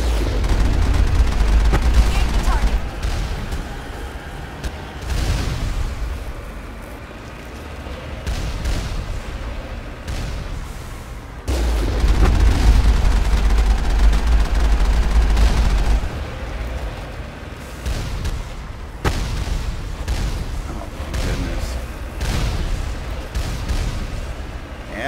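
Rocket turret blasts in Mass Effect, heavy booming detonations arriving in bursts with rumbling low-end impacts and sustained explosive noise, loud and close throughout.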